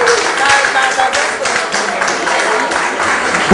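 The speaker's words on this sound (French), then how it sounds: "On applaudit Henriette" Applause breaks out among an audience at a film premiere in Chicago, a dense, sustained patter of clapping hands that holds steadily from start to finish.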